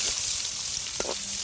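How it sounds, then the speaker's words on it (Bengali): Onion and chili paste stirred into hot oil in a wok for a village-style chicken gravy, a steady close sizzling hiss with a light scrape of stirring. "এরপর এই যে পেঁয়াজ বাটা মরিচ বাটা সব দিয়ে নাড়াচাড়া"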